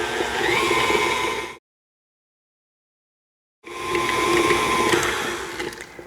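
Electric mixer creaming butter and sugar for chocolate chip cookies, a steady whirring motor drone with a shifting pitch, cut off by a two-second silence before the whirring resumes.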